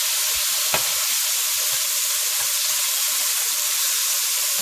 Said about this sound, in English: You want to make sure you brown it. Brown the bottom of the oxtail.